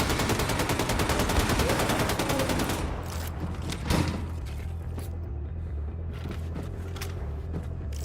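Dense, rapid video game gunfire rattles loudly for the first few seconds, then gives way to sparser shots over a low rumble.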